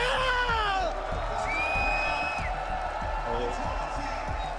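Esports arena crowd at the BLAST.tv Austin Major cheering and whooping, rising woos and shouts sweeping over a continuous roar, with talk mixed in beneath the noise.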